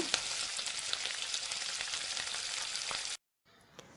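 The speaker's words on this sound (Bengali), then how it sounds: "এখানে এক চামচ ঘি দিয়ে আমি আরও একবার এগুলোকে সুন্দর করে লাল লাল করে ভেজে নেব" Tacos frying in a spoonful of ghee until reddish, a dense, even sizzle up close that cuts off abruptly, leaving a quieter faint crackle.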